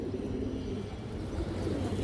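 A young male silver pigeon cooing up close, a low, continuous throaty rumble with no gaps, heard alone.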